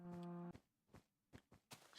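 A voice gives a short, low, droning moo imitating a cow, followed by a few quiet scattered thuds and soft noises.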